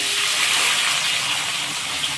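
Mustard seeds sputter in hot oil while a drumstick and egg curry is cooked, giving a steady, close, loud sizzling hiss throughout with no talking.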